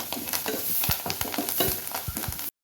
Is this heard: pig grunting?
no